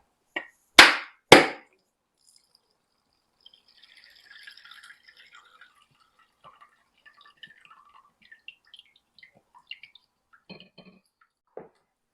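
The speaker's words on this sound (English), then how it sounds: "Now break the coconut." A whole coconut is struck and cracked open with three sharp, close knocks in quick succession, followed by faint scattered drips and light handling sounds as its water runs out.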